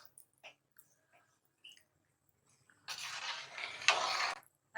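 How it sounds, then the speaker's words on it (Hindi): A spoon scrapes and swishes through rice in a pot for a couple of seconds after some faint clicks and taps. "अब इनको हिला लेंगे।"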